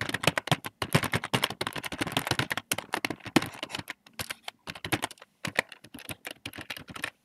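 A computer keyboard clatters with quick, close keystrokes as a PHP web form is filled in. Bursts of typing are broken by brief pauses.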